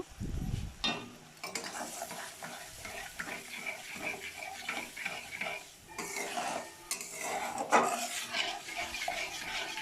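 Spoon stirring and scraping through whisked yogurt masala in a pan for Bengali doi potol, steady clinks and scrapes with a soft background sizzle, repeated strokes throughout, no talking.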